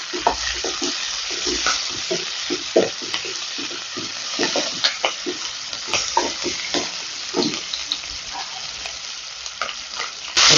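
Steady sizzling of onions, green chillies and curry leaves frying in hot oil, with repeated scraping and clinking as a spoon stirs the pan, close and continuous.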